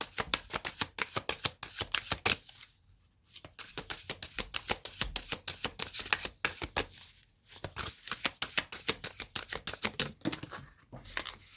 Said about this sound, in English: Cards just dropped.